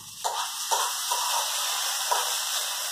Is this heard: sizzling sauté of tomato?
yes